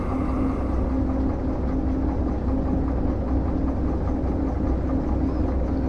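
A locomotive in the Derail Valley train simulator pulls away, its steady low engine rumble and rolling rail noise continuous and fairly loud throughout, with a constant mid-pitched hum on top.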